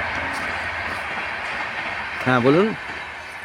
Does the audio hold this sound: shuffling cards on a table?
no